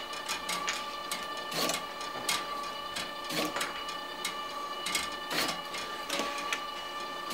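A LAB500 labeling machine runs steadily as its input feeder pushes cardboard price tags and cartons onto a conveyor belt, giving a continuous mechanical whir with regular clicking and clacking impacts repeating every second or so.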